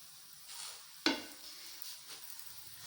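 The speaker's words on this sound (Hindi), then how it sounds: "तो इसी को भी हम बिल्कुल स्लो फ्लेम पे पकाएंगे।" Radish paratha cooking in a pan over a low flame, a soft steady sizzle broken by one sharp clatter near the start of the second second, with faint scraping afterward and no talking.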